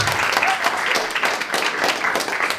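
An audience at a French stand-up comedy show bursts into applause, a dense close wash of clapping lasting a few seconds without a break.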